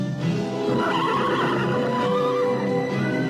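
A horse gives a loud, drawn-out neigh with a trembling whinny, heard alone and close up for about three seconds, with faint hoof-like clatter beneath it.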